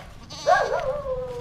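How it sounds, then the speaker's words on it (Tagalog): A goat bleats once nearby in a lot by the beach, a loud wavering cry that trails off slowly, with faint outdoor background and no talking. "May mga kambing dito sa loob."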